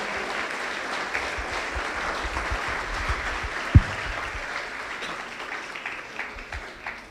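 A church congregation claps together in a steady, moderate wash of applause, with one sharper knock midway and the clapping thinning slightly toward the end.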